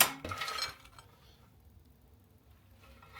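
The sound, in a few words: fried potatoes poured onto a plate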